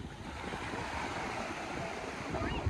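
Heavy sea waves roll in with a continuous broad roar of surf, mixed with wind buffeting at a moderate distance.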